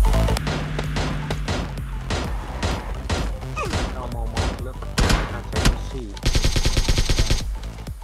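SMG bursts in PUBG Mobile crackle in rapid clusters, loud and close, with a tight fast-firing stretch near the end, mixed with game effects and a voice talking over parts of it.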